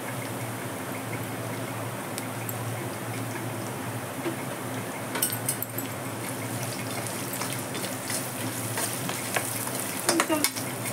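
Onions frying in oil with a pinch of salt: a steady, dense sizzle throughout, close and moderately loud, with occasional brief crackles and spatters standing out near the end.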